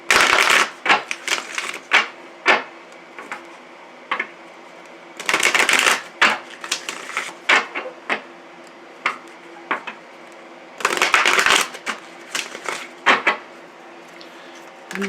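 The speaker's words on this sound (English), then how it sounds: "I'm going to pull a card from this Queen of the Moon Oracle here, and I'll read from that as well" Oracle cards from a Queen of the Moon deck being shuffled and drawn, giving repeated bursts of riffling and light clicking taps, fairly close and moderately loud, with quieter gaps between shuffles.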